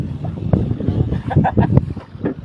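A small boat's engine runs on the water while the craft is pushed off to set shrimp traps, a steady low rumble with wind buffeting the microphone and people talking nearby.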